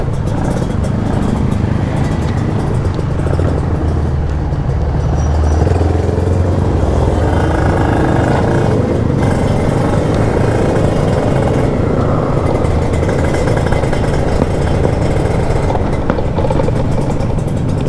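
A Kawasaki Ninja RR two-stroke motorcycle revs hard while being ridden along a rural road past mountains and rice fields, its exhaust a loud, continuous, close engine roar that rises and falls without a break.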